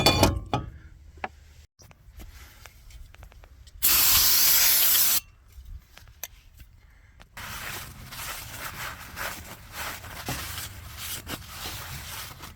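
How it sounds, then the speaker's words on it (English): Brake cleaner sprayed onto a rusty brake part of a Chevy Sonic LT during a pad and rotor change, one loud steady hiss lasting about a second amid quieter handling and clinking noises in a garage. "You want to clean this a little bit with some brake cleaner and wipe it off."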